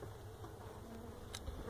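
Angry loose bees buzz steadily from a hive built into an apartment floor, a continuous close drone with brief louder flares near the end and no talk.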